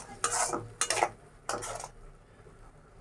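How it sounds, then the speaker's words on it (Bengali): Spices and salt are sautéed in a pan for a Bengali mixed-vegetable labra, with three close scraping stir strokes followed by a faint, steady sizzle. "আর দিয়ে দিব লবণ আমি ভালোভাবে মশলাটারে কষাই"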